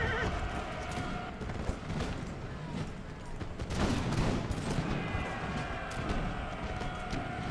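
Moylan's Dragoons fire a musket volley in an American Revolution battle game, a crackling fusillade of scattered shots amid horse whinnies and battlefield clamor.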